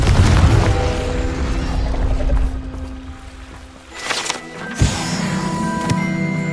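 A Confringo explosive spell blast in the game Hogwarts Legacy, with a heavy booming burst at the start that rumbles and fades, followed by sharper crackling impacts and ringing tonal effects, all without talk.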